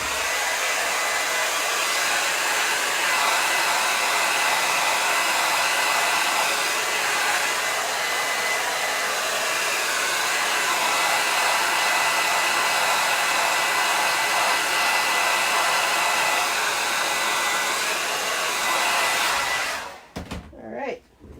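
A hair dryer blows on wet paint with a steady, loud, unbroken roar for about twenty seconds, then switches off, leaving a few faint handling sounds.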